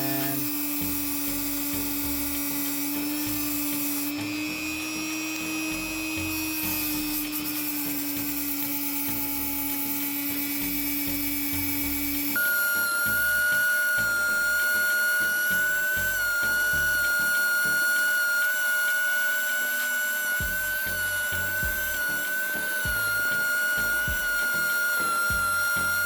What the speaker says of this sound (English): grab the drill just like this, and put it right up against there like that